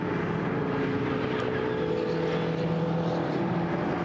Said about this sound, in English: 502 is the GT Tyres BMW now crossing the line.